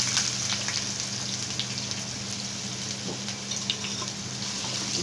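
Chopped onions fry in ghee in a pan, giving a steady, close sizzle with fine crackling pops that run evenly throughout.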